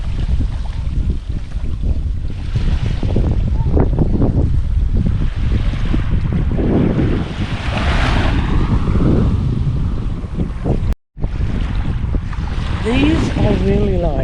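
Strong gusty wind buffets the microphone on a beach, a loud continuous roar of wind noise that swells and eases, broken by a brief dropout near the end.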